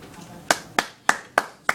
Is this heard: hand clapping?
yes